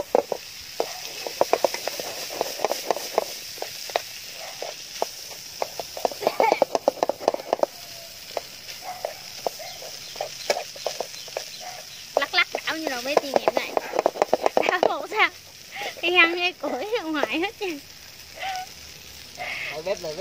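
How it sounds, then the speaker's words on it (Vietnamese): Corn being stir-fried in butter in a pot over a wood-fire stove, with intermittent sizzling and scraping stirs close by and a crackling fire, while people talk over parts of it. "cái này chắc không phải là bắp xào bơ đâu mà bắp xào khói á"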